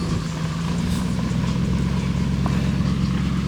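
A Ram 1500 pickup truck with a trailer of building materials idles close by in a steady, continuous low engine rumble with no talking.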